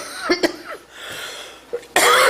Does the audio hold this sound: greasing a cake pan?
no